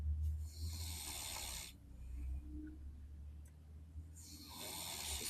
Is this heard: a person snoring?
yes